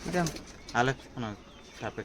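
Imported Teddy pigeons for sale coo in a few soft, rolling bursts, close by, with short pauses between calls.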